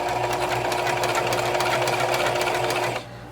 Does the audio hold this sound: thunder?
no